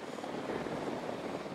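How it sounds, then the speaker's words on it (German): Drone launching in the Ghost Recon Wildlands video game, a steady whirring, buzzing rotor hum that holds at an even level throughout, with no talk over it. "Setze Drohne ein."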